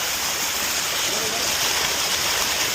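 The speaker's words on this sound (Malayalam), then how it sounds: "ഇവിടെ ഒരു ചെറിയൊരു അരുവി കടന്നു പോകുന്നുണ്ട്." A small forest stream flows near Vazhvanthol waterfalls, giving a dense, steady rush of running water with no gaps, close and fairly loud throughout.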